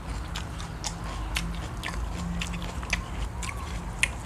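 Crisp white cabbage is bitten and chewed close up, with a series of wet, crackly crunches, the loudest near the end. A low room rumble sits underneath, and nobody talks.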